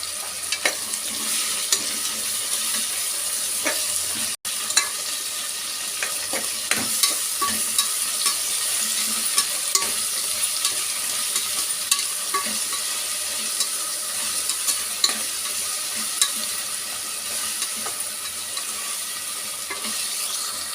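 Ginger garlic paste sizzles steadily in a pan while a utensil scrapes and stirs it in repeated, irregular strokes, close and continuous with no talking.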